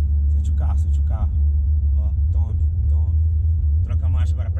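A Fiat Uno pulls away as the clutch is let out slowly, its engine a steady low rumble heard from inside the car beneath continuous conversation.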